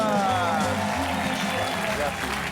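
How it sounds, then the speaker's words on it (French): A television game-show studio audience applauds a contestant named Marc, a steady, dense clapping that runs the whole stretch under a voice and a tonal musical backing. "On peut applaudir fort Marc."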